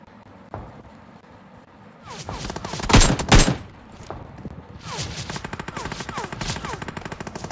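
Rapid automatic gunfire in the mobile battle royale game BGMI/PUBG, played on an iPad, rattles in long bursts with a couple of louder blasts, mixed near and far shots, and no talk over it.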